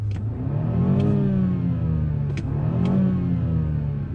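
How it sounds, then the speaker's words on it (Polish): A 2021 BMW 330i G20 with a turbocharged four-cylinder petrol engine, set to sport mode, revs up smoothly in long rising and falling sweeps, loud and close, with brief sharp clicks between revs. "Zobaczmy, jak ten silnik tutaj brzmi."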